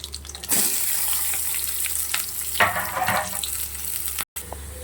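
Onion frying in a pan with curry leaves, a steady loud sizzle that flares as the onion goes in, with stirring scrapes and one brief dropout near the end.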